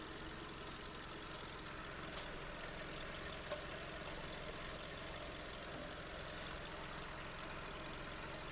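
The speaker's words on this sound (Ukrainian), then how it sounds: "робота двигуна." A Skoda Octavia A5 engine idles steadily at low volume, an even hum and rumble with no speech over it.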